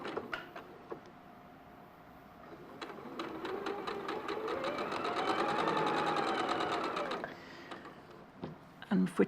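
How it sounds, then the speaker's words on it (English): A sewing machine stitches quilt block pieces together in a steady, fairly loud mechanical whir that builds and then stops, with a few clicks and handling noises around it and a voice speaking faintly. "So we're going to sew another two of those together."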